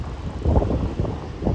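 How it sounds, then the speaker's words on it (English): Gusty wind buffets the microphone outdoors on a windy night in Midtown Manhattan, New York City, producing low, rumbling bursts that rise and fall without any voices. "How is the wind in the microphone tonight?"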